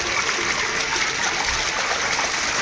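Naturally hot spring water pours steadily into a tank at a riverside temple in Konkan, a continuous broadband rush and splash that stays even and close throughout, with no speech.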